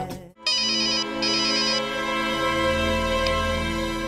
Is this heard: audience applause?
no